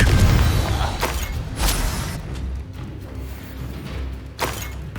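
In Hogwarts Legacy, Confringo spell blasts land as a few sharp, booming bursts spread across a rumbling, busy combat backdrop.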